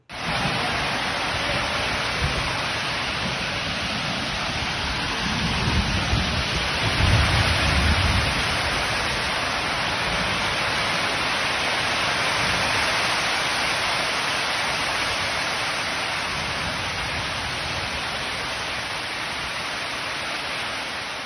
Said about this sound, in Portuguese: Vamos dar uma olhadinha, inclusive, na chuva